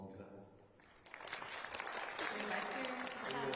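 Press reporters clapping at a Korean presidential press event, steady dense applause swelling in after a moment of talk and continuing at a fairly even level.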